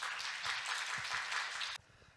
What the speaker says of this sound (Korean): 박수로 맞이하여 주세요.